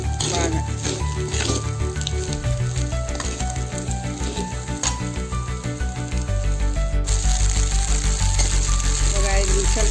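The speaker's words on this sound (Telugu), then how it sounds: "ఒక 5 నిమిషాల పాటు మనము ఇది బాగా కడాయిలో ఫ్రై చేయాలి" Pulihora mixture fries in a kadai with a continuous close, loud sizzle and light scraping stirs, the crackle swelling stronger toward the end.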